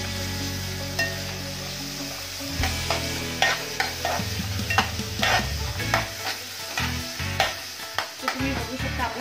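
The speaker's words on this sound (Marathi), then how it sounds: "हा कांदा घेऊया चिरलेला। कांदा चांगला फ्राय करून घेऊया।" Chopped onion frying in a pan for a masala dish, with a steady sizzle under repeated scraping strokes of a stirring spoon, close and moderately loud.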